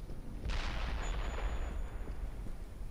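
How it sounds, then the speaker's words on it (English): A sudden booming video-game explosion bursts in and rumbles on with a heavy low roar, fading slowly over a few seconds. From Dead Island Definitive Edition. "I hear an explosion"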